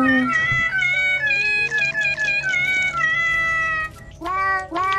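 A person imitates a cat over Fortnite voice chat, with a string of loud, drawn-out, wavering meows one after another, close to the mic, with two shorter rising cries at the end.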